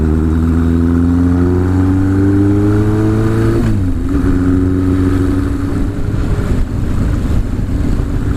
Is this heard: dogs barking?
no